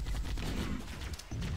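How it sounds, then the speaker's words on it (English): A grenade goes off in the Halo video game, a quick burst of close, crackling blasts amid battle noise, with a second thump near the end. "Grenade out!"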